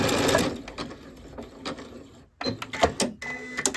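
A sewing machine runs zigzag and back stitches across fabric scraps for a boy's tie, with quick mechanical whirring bursts separated by short pauses and a brief stop near the middle, close and fairly quiet.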